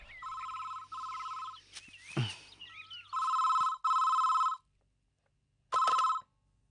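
A telephone rings in repeated bursts, pairs of electronic trills separated by short gaps, loud and close, with a brief whooshing swoosh in between and a low hum underneath.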